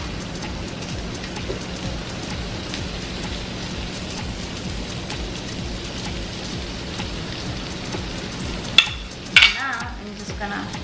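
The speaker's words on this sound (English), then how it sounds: "Do you hear that sizzle?" Paneer sandwich pieces sizzle on a grill in a steady, dense crackle close by, with a couple of brief sharper clicks or clatters near the end and no talking.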